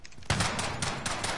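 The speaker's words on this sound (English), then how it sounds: "Buddy, why are you trying to snipe me with a fucking shotgun?" Shotgun blasts in a Modern Warfare online match: a sharp loud shot followed by a rapid run of repeated gunfire bursts, dense and close, with no talk over it.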